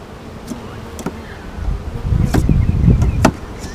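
A honey bee colony that is ready to swarm again hums with a steady close buzz, and a few sharp clicks and scrapes sound against the hive.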